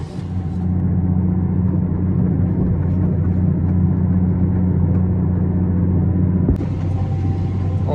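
A tractor pulling a cultivator across a field, steady close engine drone with strong low harmonic hum throughout, a brief knock near the end, with talk over it.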